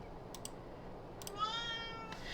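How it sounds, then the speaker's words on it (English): A cat in The Sims 2 gives a couple of short, soft meows over quiet game ambience, with a few faint clicks. "here's the cat"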